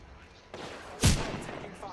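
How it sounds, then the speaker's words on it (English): Gunfire in the video game Apex Legends: a short burst of noise, then one loud, sharp shot close by, with voices talking nearby. "Oh, he's shooting the guy."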